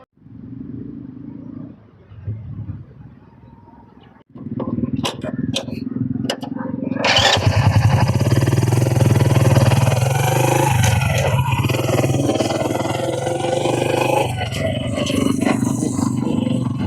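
A motorbike rides downhill into a hollow at a scenic viewpoint, starting as a low rumble with a few voices and knocks, then growing into a loud, close, sustained engine roar with wind noise that persists to the end.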